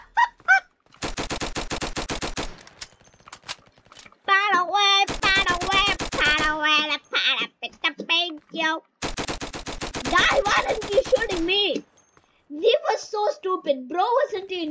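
Automatic gunfire in the Roblox game Flag Wars comes in three long, loud bursts, each lasting a second or more, with people talking excitedly between and over the shots.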